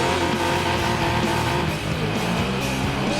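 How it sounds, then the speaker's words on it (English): A twin-turbo Vauxhall Lotus Carlton drifts in Forza Horizon 4, its tyres squealing as the rear slides out. The squeal sits over a loud, continuous engine roar with no talking. "Oh, sliding the rear out, beautiful."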